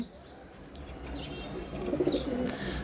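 Soft, low cooing of young domestic pigeons, growing a little louder midway, with faint chirps and light rustling nearby.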